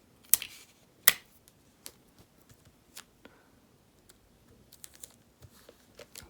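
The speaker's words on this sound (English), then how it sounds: "Let me just tape this down." Adhesive tape being pulled and pressed down to fold over a protector sleeve on a signed album, heard as close, quiet crinkles and a few sharp snapping pops at irregular intervals.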